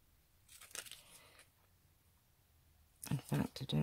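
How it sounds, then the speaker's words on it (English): Scissors snip twice with crisp, close cutting sounds, a softer pair first and a louder burst of quick chops near the end. "these scissors are not my best ones"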